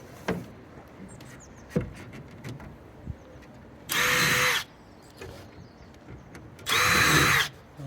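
Two loud bursts of a power drill pre-drilling into a wooden fence panel, each lasting under a second, separated by quieter handling clatter and taps.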